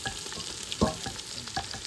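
Finely chopped onion with bay leaf and garlic sizzles steadily in oil, with a few sharp scraping clicks of stirring, close and moderately loud, no voices.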